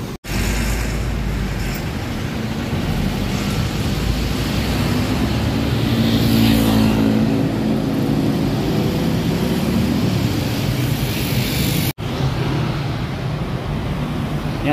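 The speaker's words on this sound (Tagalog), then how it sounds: "Yan, so ito po yung MRT3. Ayan. So papasok po siya dito sa Unified Grand Central Station po." An MRT-3 train pulls into Unified Grand Central Station with a loud, steady, broadband rumble and roar that fills the whole stretch without letting up.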